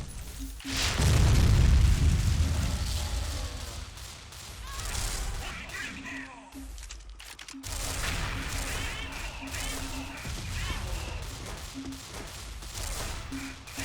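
Booming explosions and bursts of gunfire from the online shooter game XSHOT, loud at first then recurring through the stretch amid busy effects and clatter.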